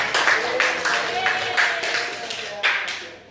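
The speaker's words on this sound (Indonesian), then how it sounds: "Oke, tepuk tangan dulu semua" A classroom of students claps together in a short burst of rhythmic applause, loud and close, with a faint voice underneath.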